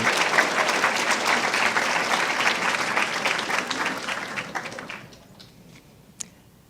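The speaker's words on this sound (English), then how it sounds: "But please give Barco a round of applause to say thank you for Barco's generosity." Audience applause at a UCLA School of Nursing Blue & Gold ceremony, a dense, steady round of clapping from a crowd that fades out over the last two seconds, leaving one sharp final clap.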